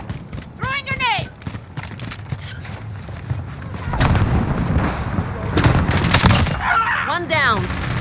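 Call of Duty Modern Warfare combat with repeated sharp gunshots and a heavier burst from a grenade explosion, close and loud, with voices briefly speaking over the fighting.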